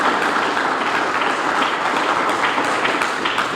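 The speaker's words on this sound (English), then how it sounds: "Let's just clap for that achievement right there." Spectators clap at the opening ceremony for Fire Station #8, a dense, steady round of applause from a sizable crowd, loud and continuous throughout.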